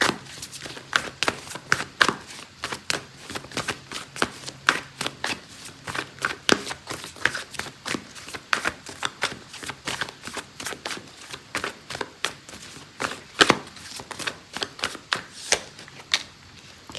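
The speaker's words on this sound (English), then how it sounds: "So I'm gonna pull out oracle card for you" Oracle cards being shuffled for a tarot reading, a steady run of crisp riffling and card slaps up close, continuing alone without talk.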